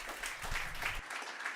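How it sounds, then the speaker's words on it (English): Audience at a tech talk on AI language models giving brief, faint applause, a soft hiss of scattered clapping lasting just over a second, with a murmur of voices blending in. "Applause, please."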